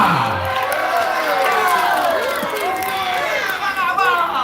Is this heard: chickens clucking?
no